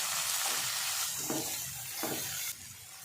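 Vegetables, including grated carrot, sizzle steadily as they sauté in a hot pan, a continuous hiss with a few stirring shifts, close and fairly loud.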